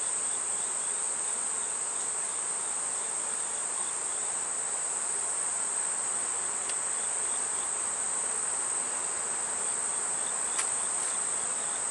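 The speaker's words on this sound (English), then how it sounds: "I think we'll go ahead and get all the bees out of this box." Bees in a hive box give off a steady, even drone with a few faint clicks, continuous and close, with no talking.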